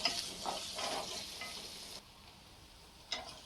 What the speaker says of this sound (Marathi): लगेच कांदा घालून घ्यायचा हा बारीक चिरून घेतलेला आणि या कांद्याला सॉफ्ट होईपर्यंत आपण शिजून घेऊ